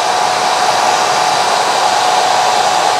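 A hair dryer running at its highest setting on power from a pure sine wave inverter, a steady loud whooshing blow with an even motor hum, heard alone and unbroken throughout.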